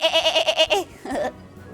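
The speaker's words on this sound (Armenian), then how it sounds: "ոչխար," A string of rapid, wavering bleats, loud and close, followed by a short lower bleat and then quiet.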